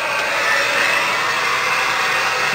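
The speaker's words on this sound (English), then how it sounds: "With my professional electrician's hair dryer." Steady close-range blowing whir of a hair dryer used as a heat gun on heat shrink tubing over electrical wiring during a sailboat air conditioning install, continuous with no talk.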